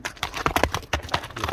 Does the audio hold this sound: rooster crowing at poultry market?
no